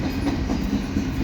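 Five-engine CPKC freight train hauling ballast, maintenance-of-way and well cars, rolling close by and slowing, its steady rumble broken by a rhythmic clickety-clack of wheels over rail joints.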